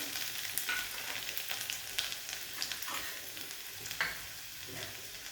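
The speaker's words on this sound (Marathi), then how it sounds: "यात आपण हा लसूण बारीक चि चिरून घेतलेला तो टाकायचा" Finely chopped garlic sizzling in hot oil with mustard seeds, cumin and a pinch of hing, a steady quiet crackle with occasional pops and a stir, no talking.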